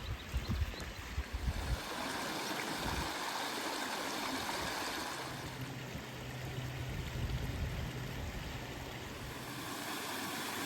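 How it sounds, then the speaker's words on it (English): A waterfall in Lower Heyden Clough pours with a steady, full, broadband rushing roar, close and continuous throughout, with slight splashy variation early on. "This is definitely the biggest waterfall I've seen so far."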